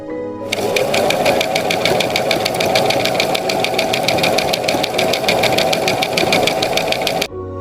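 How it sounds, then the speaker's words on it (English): Sewing machine running at a steady fast stitch, a loud continuous whirring rattle that starts abruptly, holds for about seven seconds and then cuts off, with no voices. "I am sewing."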